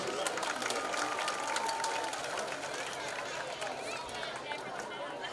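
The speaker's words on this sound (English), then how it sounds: "How about a nice round of applause for Miss Grace Williams." Crowd applause for Miss Grace Williams at a high school football game in Guntersville, a dense steady clapping wash from a large crowd in the stands, fairly distant, with murmuring voices mixed in.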